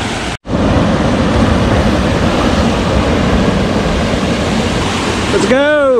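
A waterfall in Zion National Park, near the Pa'rus Trail, gives a loud, constant broadband rush close by. The sound cuts out briefly near the start, and a voice sounds right at the end.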